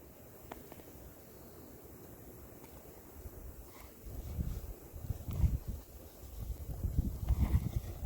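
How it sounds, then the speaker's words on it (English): Strong wind during a winter nor'easter snowstorm in New Brunswick, low gusty buffeting that starts faint and builds into heavier rumbling bursts in the second half. "So that wind is strong."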